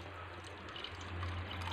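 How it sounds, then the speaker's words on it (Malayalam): Water poured into a pot of spicy Kerala-style Malabari beef curry: a brief, steady wash of pouring liquid over a low hum, close and moderately quiet. "ഇതിലേക്ക് ആവശ്യത്തിന് വെള്ളം ചേർക്കുകയാണ്."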